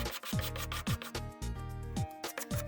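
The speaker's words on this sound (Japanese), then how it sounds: "紙やすりは400番を使用しました。" Acrylic edge of a homemade clear case for a DeskMini A300 PC rubbed with 400-grit sandpaper; steady close scraping strokes with repeated squealing, downward-gliding tones, no talking.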